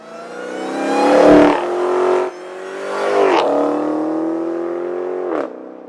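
A Dodge Challenger SRT Hellcat's 717-horsepower supercharged V8 revs hard twice, roaring up and dropping off between blips, then settles into a loud, steady burble before a final sharp cutoff.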